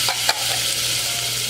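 Minced garlic sizzles in butter in a pan, a steady close hiss with a couple of brief stirring scrapes near the start.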